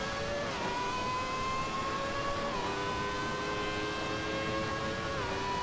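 A Williams FW14 Formula One car in the Assetto Corsa racing game howls at full throttle, its high-pitched engine note climbing steadily through the revs with brief dips at two quick upshifts, loud and continuous.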